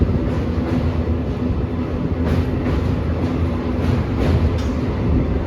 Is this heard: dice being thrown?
no